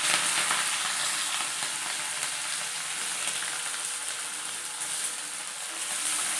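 Chopped onion, tomato and green chilli fry in hot oil with mustard seeds for a Kerala-style moru curry, giving a loud, steady, hissing sizzle that holds evenly throughout with no voices.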